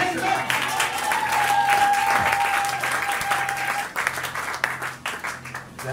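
A church congregation applauds the Lord with loud, sustained clapping filling the room, a shouted voice rising over the crowd before the applause thins into scattered claps.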